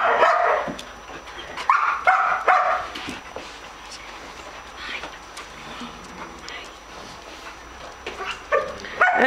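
Several dogs at an animal shelter bark in scattered loud bursts, with yips and whimpers in between, some close and some farther off, over a background of indoor noise.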